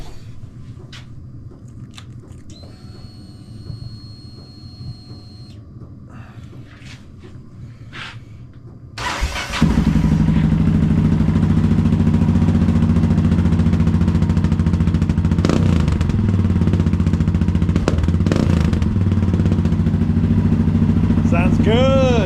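A Kawasaki KX450 dirt bike engine kicks into life after some quiet handling noises, then idles loudly and steadily with a few revs close by, while someone talks over it.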